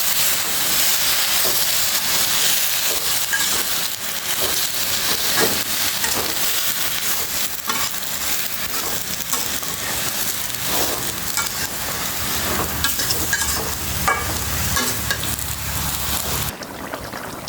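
Leafy greens (saag) stir-fried and tossed in a pan, giving a steady, close sizzle with scraping stirring strokes throughout, no voices.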